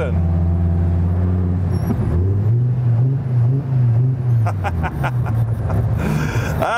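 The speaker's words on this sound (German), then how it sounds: "diesen ganz puren, echten Audi 5-Zylinder-Klang, der wirklich großartig ist, der so ein bisschen schmutzig ist" An Audi five-cylinder engine hums steadily from inside the car while someone talks over it, with the pitch shifting slightly as the car cruises.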